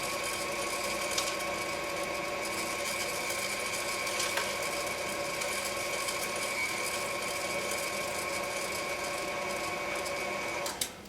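An electric grinder runs on nuts with a constant, loud mechanical whir and buzzing hum, steady for the whole stretch before a brief clunk as it stops.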